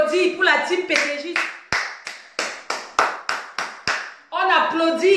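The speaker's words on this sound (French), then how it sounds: "On applaudit pour la team PDG." Rhythmic group clapping for a team, about ten sharp claps in a steady chant-like beat between stretches of loud speech at either end.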